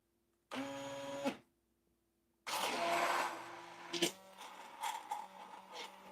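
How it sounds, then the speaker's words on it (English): An immersion blender runs in short bursts while making a moon sandwich. It gives a brief whining motor buzz, then falls silent, then a longer grinding run that sputters into several uneven pulses. The sound is close and fairly quiet. "I would definitely recommend using a food processor because this immersion blender is not the ticket"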